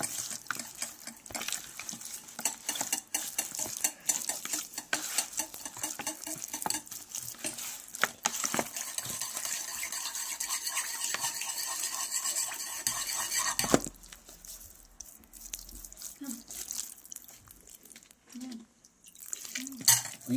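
Tandoori chicken is mixed by hand with salt in a bowl, giving soft wet squelching and patting with occasional clinks of the bowl, close and continuous, with a quieter stretch near the end.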